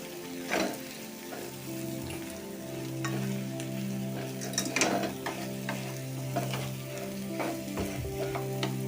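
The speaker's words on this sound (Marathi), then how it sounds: "हे आपण उकडून मॅश केलेले बटाटे घालायचे आणि हे मिक्स करून घ्यायचे व्यवस्थित" Boiled, mashed potatoes are stirred into spices in a pan for samosa filling, with steady close scraping and tapping of a spatula over a faint sizzle and low steady hum, no one talking.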